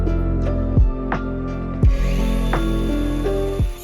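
Small circular saw and jigsaw cutting a rough shape out of wood for a charcuterie board, a steady loud motor whine with the pitch dropping and recovering under load several times, close and without talk.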